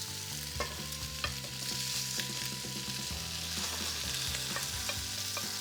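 Sausages fry in a pan while being stirred, a steady close sizzle broken by scraping utensil knocks and spatters, moderately quiet with no speech.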